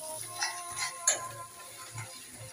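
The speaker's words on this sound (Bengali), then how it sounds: "এখন একটু নেড়ে চেড়ে দিয়ে দেব।" Turmeric and chilli powder being stirred in a pan for Bengali aar fish curry: a few quick scraping and clinking strokes of a utensil against metal, close and fairly quiet, with faint frying beneath.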